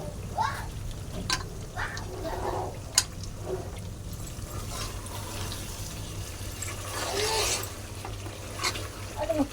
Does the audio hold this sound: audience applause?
no